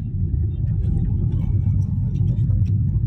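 A Hyundai Grand i10 Nios engine rumbles low and steady from inside the car as the accelerator is pressed, a muffled continuous drone with faint road noise.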